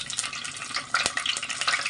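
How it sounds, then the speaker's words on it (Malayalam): Two dried red chillies dropped into hot coconut oil give a short, soft, continuous sizzle and crackle, with one brief louder pop near the middle and no voices. "ഇനി അതിലേക്ക് 2 വറ്റൽമുളക് ഇട്ട് കൊടുക്കുന്നുണ്ട്."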